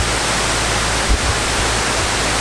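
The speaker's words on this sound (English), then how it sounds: "This is the top of the water source that basically feeds all the waterfalls all the way from the top down." A waterfall at the top of a water source roars as loud, dense, steady rushing water, close by and continuous throughout.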